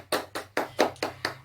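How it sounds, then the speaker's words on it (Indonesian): Hands clap in an even rhythm in a classroom, six distinct, fairly quiet claps spaced about a fifth of a second apart. "Kita beri tepuk tangan yang meriah untuk kelompok 1 dan juga kelompok 3"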